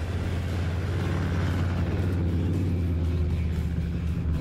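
A 4WD engine roars hard and steady off-road, a dense low drone held at full effort throughout with no talk over it.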